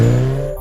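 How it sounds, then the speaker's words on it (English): A Bajaj V15 150cc motorcycle's exhaust rises as the throttle opens, giving a deep, bassy, steady drone heard up close that fades slightly toward the end, with no voices. "The exhaust note is meaty, deep-throated and quite bassy for a 150cc bike"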